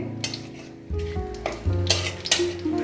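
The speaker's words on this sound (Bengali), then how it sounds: "কালো জিরে ফোড়ন, তেজপাতাটাকে ছিঁড়ে দু টুকরো করে নিয়েছি, দুটো শুকনো লঙ্কা দিয়ে দিয়েছি" Nigella seeds, a torn bay leaf and two dried red chillies tempering in hot oil, a close sizzle with a spoon stirring and clinking against the pan in short bursts.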